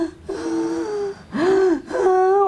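A voice imitates hysterical, panicked breathing: three sharp, strained gasping inhalations with a whining, sob-like tone, close and loud, in an irregular rhythm with brief pauses between them.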